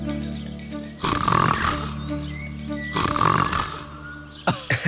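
A boy imitates an animal roar with his voice, giving two long, growling, snore-like bursts close by, followed by a few short rough snorts near the end.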